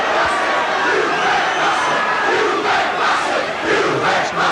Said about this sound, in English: Crowd voicing their opinion there at the referee.